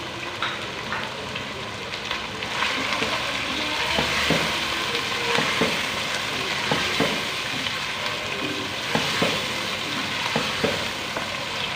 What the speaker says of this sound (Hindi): यहाँ पे 2 मिनट के लिए टमाटरों को अच्छे से नरम कर लेते हैं।